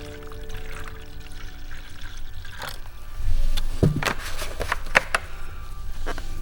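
Two-part chemical solution, equal parts A and B, poured out to make about half a gallon for a Victory VP300ES cordless backpack sprayer; a short splashing pour with a few clunks of containers, close by, no speech.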